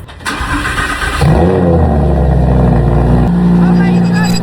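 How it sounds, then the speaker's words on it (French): Sports car STO engine starting: a starter whir, then the engine catches and settles into a loud, steady idle with a brief rev, close by, with a voice speaking over it. "Il va démarrer la STO"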